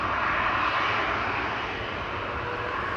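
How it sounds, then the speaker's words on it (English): Jet engines roar steadily and loud as airliners prepare to take off from a runway right nearby at Amsterdam Schiphol Airport, a dense, unbroken rush with no voices. "Both these jets are coming to take off from this runway we are standing right next to."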